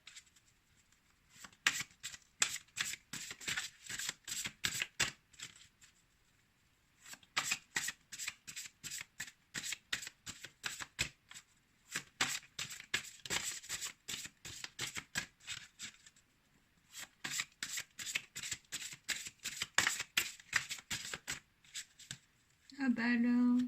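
Tarot cards are shuffled by hand in repeated bursts of crisp, rapid riffling, close and fairly quiet, with short pauses between rounds and a brief voice at the very end.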